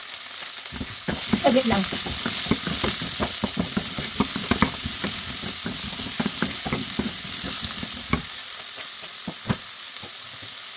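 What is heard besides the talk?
chicken frying in a pan for kung pao chicken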